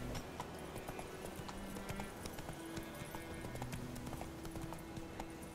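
A horse gallops in The Witcher 3 video game, rapid rhythmic hoofbeats clip-clopping steadily throughout at moderate volume over a dense game soundscape.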